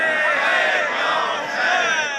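A massed crowd chants a religious slogan during a 10 Muharram procession in Mianwali City, many voices shouting together in a loud, sustained, unified roar that stays close and steady throughout.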